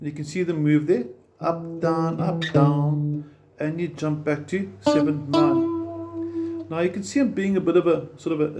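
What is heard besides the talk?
No everyday noises stand out.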